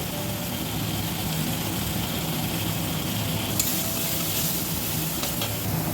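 Steady sizzling and frying of ground turmeric, coriander and cumin with a little water in a hot pan, continuous and fairly loud, with a brief brighter crackle midway and no voices.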